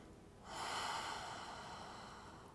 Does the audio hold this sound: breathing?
yes